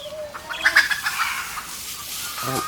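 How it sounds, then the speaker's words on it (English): A few chickens, chased by a puppy in the woods, squawk and cluck in brief, agitated bursts, moderately close, over a quiet outdoor background. "she is chasing the chickens out in the woods"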